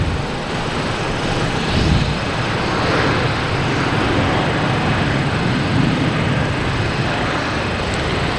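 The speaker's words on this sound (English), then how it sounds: "We have Air France surprising the heck out of us, taking off." An Air France airliner taking off at Boston Logan Airport gives a steady, broad jet roar that holds at a constant loud level throughout, with no voices heard.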